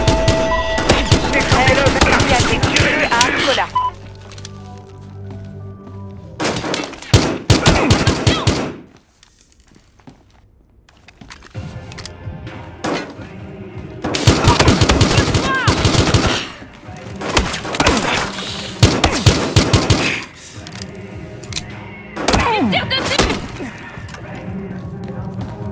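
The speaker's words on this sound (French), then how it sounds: "Coup de feu!" Loud bursts of rapid automatic gunfire in the video game Battlefield Hardline come in repeated volleys with short pauses between them, harsh and close, with a brief quiet gap in the middle.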